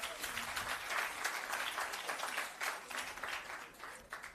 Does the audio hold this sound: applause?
yes